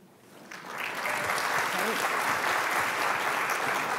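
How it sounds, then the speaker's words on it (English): Audience applause at a panel discussion on digital solutions for sustainable development goals, rising quickly and holding steady as a broad wash of clapping. "please join me in a round of applause for these incredible solutions"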